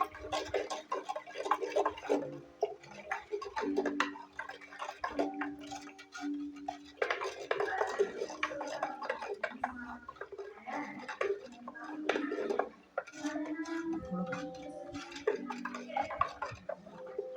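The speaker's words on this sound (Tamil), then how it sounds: "இந்த மாதிரி ஒரு குச்சி வச்சு நல்லா கலந்து விட்டுக்குங்க" A stick stirs a pesticide mixture in a container, giving continuous light scraping and clinking taps with a busy rural background hum throughout.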